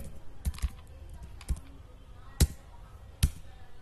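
Light typing on a computer keyboard while entering data into an Excel sheet, with a few sparse, quiet key taps spaced out under faint room noise.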